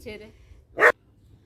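A single sharp dog bark rings out close by, following a brief low murmur, then quiet.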